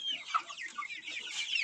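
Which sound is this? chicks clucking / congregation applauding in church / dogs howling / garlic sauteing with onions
chicks clucking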